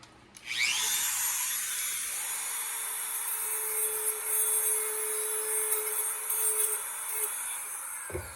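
A Dremel rotary tool whines steadily at high speed, grinding against a hard Dragon Lantern panel for several seconds without pause, close and continuous.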